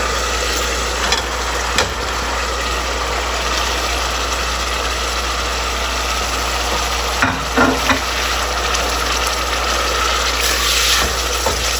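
Spices fry loudly in a pan, a dense continuous sizzle over a low steady hum, broken by a few scraping clatters as they are stirred; no one talks.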